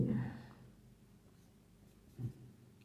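Marker or chalk strokes on a classroom board, a short scratchy burst at the start and another brief stroke near the end, faint and close, with no speech over it.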